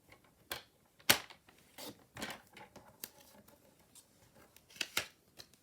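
Scissors snip through material for a treat holder in a series of short, crisp, irregular cuts close to the microphone, with quiet pauses between them and no voices.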